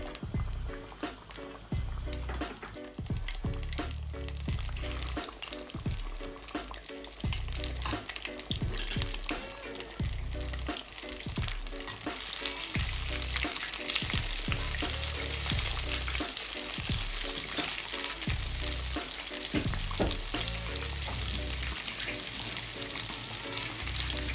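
Cheesy prawn and plantain balls frying in hot oil, a steady loud sizzle with bubbling crackle that rises and stays dense, with light clinks of a spoon dropping pieces in.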